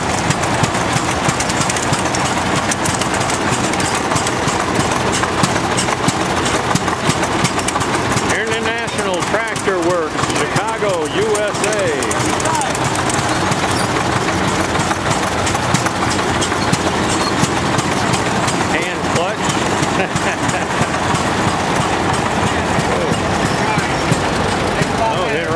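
An old Mogul tractor engine runs steadily at a loading site, a continuous heavy mechanical chug under constant nearby rumble, with people talking over it.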